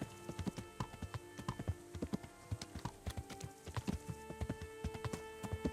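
Horses clip-clop on a road in the medieval video game Kingdom Come: Deliverance, a fairly quiet, irregular run of hoof knocks with no talk.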